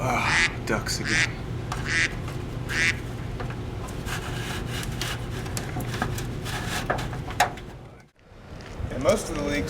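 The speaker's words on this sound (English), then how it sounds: "Ducks again." Ducks quack repeatedly in short bursts early on, mixed with people talking and background noise inside a leaking, water-damaged building. A brief lull is followed by a few more calls.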